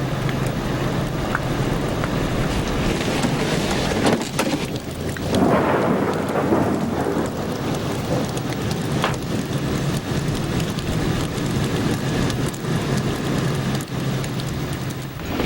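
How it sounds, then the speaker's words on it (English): Steady, heavy rain pours down outdoors while rolling thunder rumbles loudly through the middle, a continuous dense wash of water with no talking. "And it was raining then, too."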